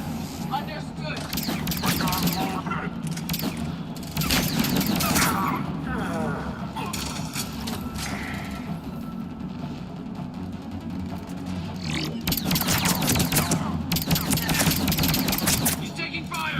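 Sustained gunfire from the Mass Effect 3 video game, dense bursts of shots and automatic fire running throughout, loud and close, with game voices calling out over the combat.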